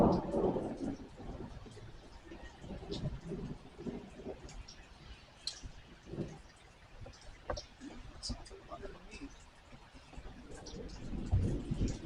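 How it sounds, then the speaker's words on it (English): Low rumbles of thunder roll in from an approaching squall line over the Saint Johns River, soft and distant, swelling and fading under scattered talk and light rustling. "Some good rumbles of thunder from in there."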